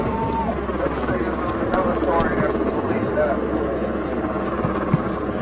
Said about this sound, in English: but that helicopter's way too loud